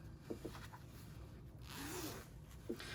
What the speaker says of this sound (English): so now I can unzip my zipper